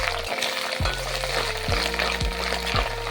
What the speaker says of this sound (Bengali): অল্প আদা দেব আদা দিলে রাইসের গন্ধটা খুব সুন্দর আসে আদাটাকে একটু ভালোভাবে ভেজে নেব